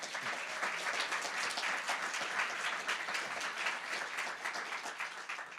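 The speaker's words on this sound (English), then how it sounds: "So a round of applause for Dean McCormick." A graduation ceremony audience gives a dean a sustained round of applause, dense steady clapping filling the hall at moderate distance.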